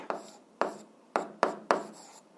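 Pen strokes writing fractions by hand for an 8th-grade algebra exercise, five short scratchy bursts in an uneven rhythm, close and quiet with no talking.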